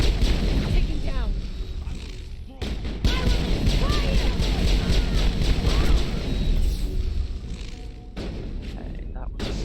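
Mass Effect combat: heavy gunfire and booming barrel explosions in a continuous loud barrage, with in-game voices shouting over the battle.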